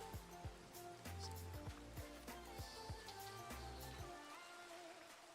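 Rain falling at night in the survival video game Questbound in hardcore mode: a faint, steady hiss of rainfall runs throughout, with soft rhythmic low thumps beneath it.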